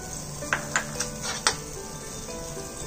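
Butter sizzles on a hot tawa griddle over a gas flame: a steady, soft frying hiss with several sharp metallic clinks from a utensil tapping the pan, and no talking.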